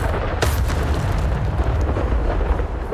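A Bombarda explosion spell from the Hogwarts Legacy video game bursts out as a loud, dense rumbling blast, with a sharp crack near the start and steady booming roar for about three seconds.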